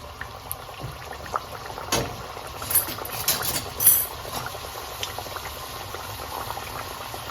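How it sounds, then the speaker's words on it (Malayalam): Rolled poori dough dropped into hot oil, bubbling and hissing steadily at moderate volume with a few brief sharper crackles, no voices. "അപ്പോൾ നമ്മുടെ എണ്ണ നന്നായിട്ട് ചൂടായിട്ടുണ്ട്. അതിലേക്ക് നമ്മൾ ഈ പരത്തി വെച്ചേക്കുന്ന പൂരിയുടെ മാവിട്ട് കൊടുക്കാം."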